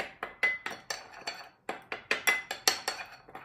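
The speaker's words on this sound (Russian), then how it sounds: "Мы заливаем желатин водой. И оставляем его. Вот можно его даже немножечко так помешать." A spoon stirs gelatin soaked in water in a bowl, giving a close series of about a dozen sharp metallic clinks in an uneven rhythm, with a brief pause partway through and no talking.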